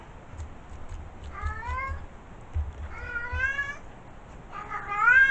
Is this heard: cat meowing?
yes